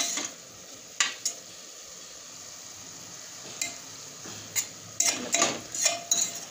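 A spoon scrapes and clinks against a pan while a carrot halwa mixture is stirred, with short scraping strokes that bunch up toward the end over a low, soft sizzle. No one speaks.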